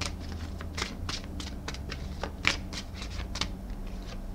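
A deck of cards is shuffled in quick, crisp riffles and flicks, repeating in a loose rhythm, close up with no talking.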